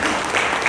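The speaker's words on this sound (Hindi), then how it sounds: "मैं एक बार सोनी सर के लिए शानदार तालियां दूंगा" An audience at a seminar in Vasco, Goa breaks into a dense burst of clapping that stays steady and loud through the very short moment.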